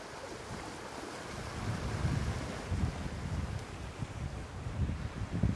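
Ocean waves surge and crash against jagged rocks beside a wrecked ship on the Irish coast, rumbling in repeated swells that build and fall under gusting wind buffeting the microphone.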